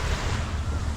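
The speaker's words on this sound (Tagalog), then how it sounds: "Ang hinhin ng alon." Gentle sea waves lapping near Lazarus and Kusu Islands in Singapore, a steady low wash mixed with wind rumble, loud and continuous.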